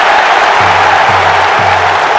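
Home crowd applauding at the Olympic Stadium during men's javelin in the video game London 2012, a loud dense wash of clapping and cheering, with a commentator's voice briefly under it.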